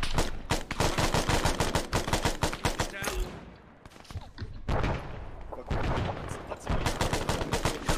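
Rapid bursts of gunfire in ArmA or DayZ, dense automatic fire crackling loudly, a brief lull, then renewed sustained shooting, with a voice calling out underneath.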